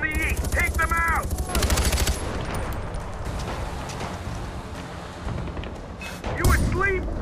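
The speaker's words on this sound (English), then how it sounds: "Cover fire means you cover me." Gunfire from the video game Far Cry 4: dense bursts of automatic fire and single shots, loud at first and then continuing under game music and effects. Voices talk over the shooting.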